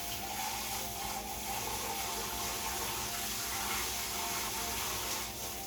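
Water running steadily at a kitchen sink, a continuous even rush close by with no talking.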